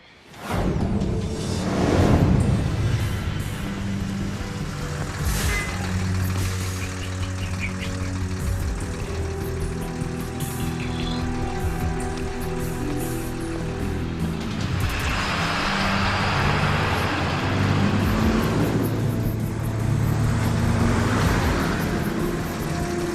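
Truck starting up and driving away, a low engine rumble with whooshing movement and rising revs, moderately close and continuing steadily with no talk.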